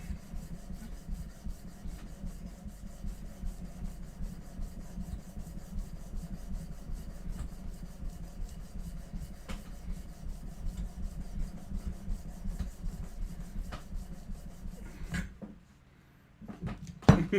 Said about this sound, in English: just using this piece of sandpaper, Bash, and then we'll get to the sangin'.